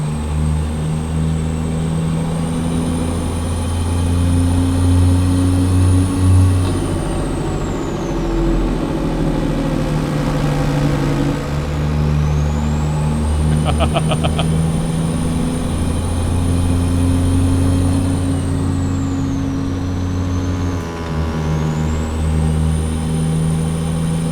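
Cummins Big Cam engine in a Canadian logging truck droning steadily and loudly inside a tunnel, a deep rumbling idle-to-cruise tone with echoing reflections and rising whines that sweep up and down, no talk over it.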